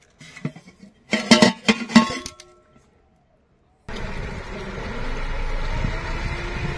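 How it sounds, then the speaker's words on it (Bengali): A Sundarbans tourist boat's motor passes by, a steady near rumbling drone that starts abruptly after a few brief voice-like sounds and continues to the end. "যে বোটটিকে ইতিপূর্বে দেখিয়েছিলাম, সেই বোটটা কিন্তু পর্যটকদের নিতে চলে যাচ্ছে।"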